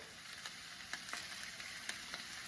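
Onions frying in olive oil in a pan over medium heat, a faint, steady sizzle with occasional small pops and crackles, no voices.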